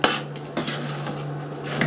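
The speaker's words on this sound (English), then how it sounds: "So now I'm going to mix all that." A utensil scrapes and clinks against a cooking pot as pea soup simmers, several light knocks and scraping strokes at close range with no talking.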